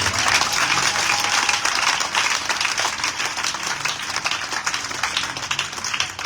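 Church congregation at a Wednesday service applauding and cheering to acclaim the resurrection: sustained loud clapping from a large crowd, steady and unbroken throughout.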